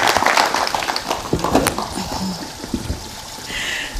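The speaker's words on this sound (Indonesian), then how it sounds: "Kita tepuk tangan sekali lagi untuk Umi dan Yati" Scattered applause from an audience at a community empowerment event in Karanganyar, uneven clapping mixed with shuffling and background voices, fading somewhat toward the end.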